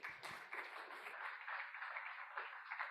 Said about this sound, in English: I will sit down and allow you all to clap Tony Rovira